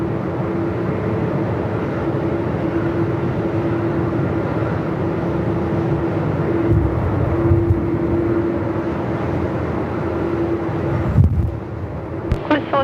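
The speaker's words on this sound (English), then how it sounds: "Qantas 797 coming in now from Alice Springs," Qantas airliner landing at Melbourne Airport in strong wind, a continuous low engine roar with steady whine blended into heavy buffeting wind noise, distant and sustained, without talk.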